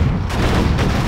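Dense, continuous battlefield gunfire and booming artillery from Command & Conquer: Generals, on a USA campaign mission. Loud, overlapping shots and blasts fill the whole moment with no pause and no voices.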